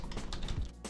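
A computer keyboard clatters with a short burst of close, quiet keystrokes while a command is typed into a command prompt.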